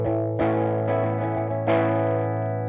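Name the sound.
distorted electric guitar through Universal Audio Woodrow 55 plugin cabs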